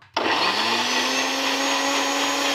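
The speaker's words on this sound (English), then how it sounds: "now we're going to put the lid on the blender" A blender whirs loudly and steadily, blending a cornstarch sauce for pork belly bao buns, starting abruptly after a brief quiet moment and running without pause.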